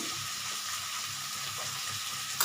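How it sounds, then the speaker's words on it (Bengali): Spices fry in a pan for Bengali rui fish-head muri ghonto, producing a steady, even sizzle heard up close, with a small clink at the end and no talking. "এটা একটু ভাজা ভাজা হতে থাকুক ভাজা হতে থাকুক"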